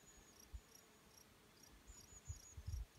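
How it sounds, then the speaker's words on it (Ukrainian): Crickets chirp in a forest meadow, faint high repeating trills spaced across a quiet background, with only soft low rustles and no clear bee buzzing standing out. "Не знаю, чи почули ви, як співають цвіркуни та гудуть ще бджоли, джмелі."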